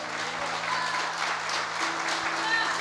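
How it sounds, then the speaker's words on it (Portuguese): Church congregation applauding during a sermon, a continuous wash of many hands clapping together, fairly loud and even, with a low hum underneath. "Aplauda o Senhor bem forte"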